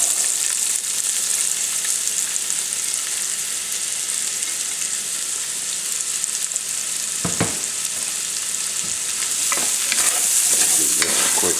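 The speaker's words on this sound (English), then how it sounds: "we're going to add a little bit more oil to the pan. And then to this, we're going to add in our vegetables" Vegetables fry in oil in a pan for chicken sauce piquant, making a loud, continuous hiss up close. A few sharp stirring knocks come through near the end, and no one speaks.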